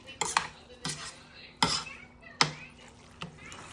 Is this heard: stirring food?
yes